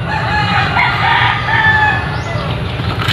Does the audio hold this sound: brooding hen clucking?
yes